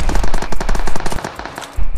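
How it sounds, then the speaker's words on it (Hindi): Rapid automatic gunfire from a Groza assault rifle in the mobile battle royale game BGMI, near the cemetery area, loud dense bursts of rattling shots with a brief pause before firing resumes. "अब यहाँ आगे गोलियां चल रही थी"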